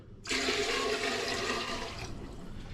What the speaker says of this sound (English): I'm now going to fill this jug right to the top, past the 2 litre mark, with hot but not boiling hot water